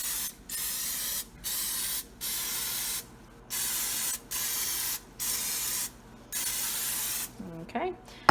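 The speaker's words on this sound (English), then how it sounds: "I'm gonna spray these down pretty liberally with this olive oil spray." H-E-B olive oil cooking spray hissing onto food in short, close bursts of about a second each, eight or so in a row, with a voice starting up at the end.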